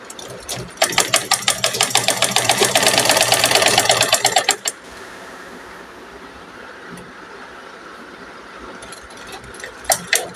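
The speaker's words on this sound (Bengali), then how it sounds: "সেটা এবার একদম সাইড দিয়ে সেলাই করে নিব আরেকটা রাউন্ড দিয়ে।" A sewing machine stitches along a fabric edge in a fast, even run of needle clatter for about four seconds, then stops, leaving a quiet room with a brief restart near the end.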